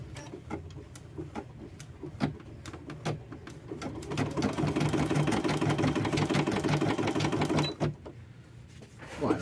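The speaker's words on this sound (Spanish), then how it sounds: "Bueno, está cosiendo una puntada." A Brother embroidery machine, strapped down with plastic banding, stitches in a fast steady mechanical rattle that builds from scattered clicks into a continuous whirring run for several seconds, then stops abruptly.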